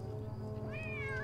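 A cat in the occult video game Nine Witches gives a single short meow, rising then falling, over a low steady game music drone with no talk.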